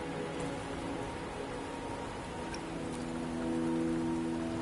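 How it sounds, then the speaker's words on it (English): Rain pours steadily in the video game Wuthering Waves, a constant hiss of drops with soft tonal game music humming underneath, even and close with no voices. "Don't worry, the rain won't last much longer."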